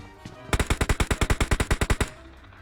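Rapid automatic gunfire from PUBG Mobile, about fifteen evenly spaced loud shots in a quick burst lasting around a second and a half, with quiet game ambience before and after.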